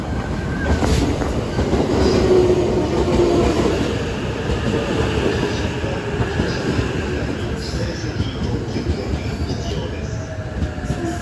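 Yamanote Line train arriving at a station platform, a steady rumble of wheels and motors with faint squeals, heard at moderate level for several seconds.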